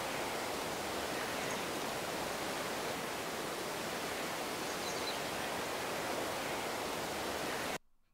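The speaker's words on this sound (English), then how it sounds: "Just sounds like a bit of forest ambience, right?" Forest ambience of dense, steady broadband rustling like flowing water or wind through leaves, with faint bird hints, continuous and even until it cuts off abruptly near the end.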